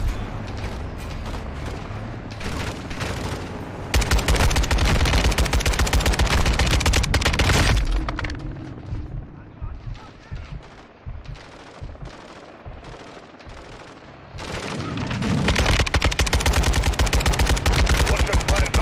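Friendly forces open fire in Call of Duty: Modern Warfare 2, with dense bursts of automatic gunfire and sharp shots, heaviest early and again near the end, separated by a sparser stretch of scattered shots.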